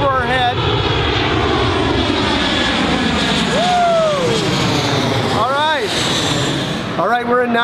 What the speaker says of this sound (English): sometimes there's planes that go overhead